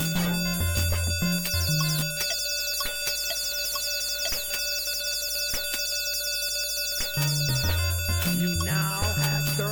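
A shrill electronic alarm rings continuously in the Castle of Dr. Brain computer puzzle game, a steady, loud, buzzing bell tone running the whole time over short low game-music notes at the start and end.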